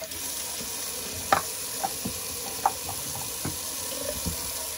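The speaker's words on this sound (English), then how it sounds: "let's do a little sink rinse and cold water rinse for the face" Cold water runs from a bathroom sink tap for a face rinse after shaving, a steady hiss with scattered splashes and small clinks, close and moderately loud, with no talking.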